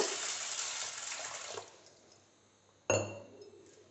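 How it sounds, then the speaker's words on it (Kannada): Sago pearls are swished and rinsed in water in a vessel, fading to quiet before a sudden splash and clink near the end. "ಇದಕ್ಕೆ ನೀರು ಆ್ಯಡ್ ಮಾಡ್ತಾನೆ ಇದು ಕ್ಲೀನಾಗಿ ತೊಳ್ಕೊಳ್ಬೇಕು"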